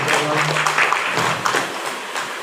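Audience applause at a new-student campus orientation event, a dense patter of clapping filling the whole moment at steady loudness, with some voices mixed in underneath.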